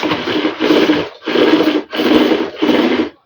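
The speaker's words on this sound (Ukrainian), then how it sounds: "Витягується шнур." A new vacuum cleaner's power cord is pulled out in four long drawn bursts with short pauses between, a close, loud rasping whir with no talk.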